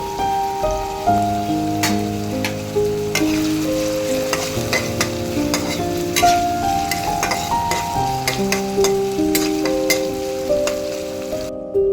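Sesame and mustard seeds sputter in hot oil as a dense, continuous sizzle with constant rapid popping and crackling, loud and close, with no voices.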